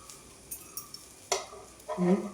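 Brinjal slices fry in a pan and are flipped over, producing a few light spatula taps followed by a brief burst of sizzling, quiet and close.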